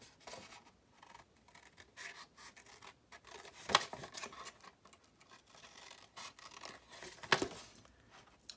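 Scissors cut through scored paper card in short, quiet snips and rustling scrapes, with two sharper clicks of the blades; close and faint, without speech.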